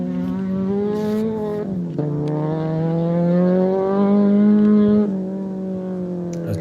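A Toyota Etios rally car on a gravel stage drives past with a loud, sustained engine note that drops and rises through gear changes, close by and without talk.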